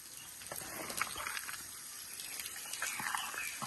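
Water sloshes and splashes continuously as coffee cherries are swirled and rinsed in it, a steady wet churning with small clinks, fairly close.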